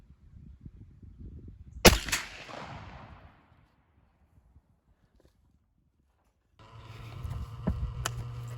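A 28 gauge Browning BPT 2 3/4-inch shotshell with 3/4 oz of 7.5 shot fires through an improved cylinder choke at an outdoor patterning range. A single sharp, loud report rolls off into a fading tail, followed by near-silence and then low outdoor rumble and clatter.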